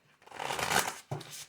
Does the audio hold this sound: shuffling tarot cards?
yes